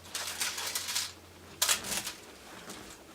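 Knife slicing a vegetarian pizza on a plate, soft scraping and crunching strokes in a few bursts, quiet and close with no talking.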